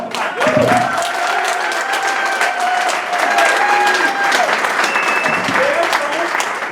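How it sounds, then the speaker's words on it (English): An event audience claps steadily in a loud, dense wave of applause with scattered cheers and shouts mixed in, while voices call out briefly over the crowd noise throughout. "I need you guys to start clapping."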